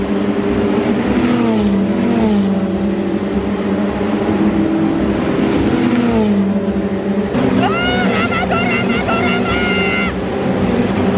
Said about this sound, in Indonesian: Ini dia mobil-mobilnya.